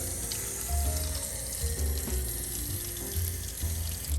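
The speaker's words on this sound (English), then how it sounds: "Put a little bit of water," Water poured into a baking pan holding lobster tails in a kitchen, a steady running splash and gurgle that lasts the whole stretch, fairly loud and close, with no talk over it.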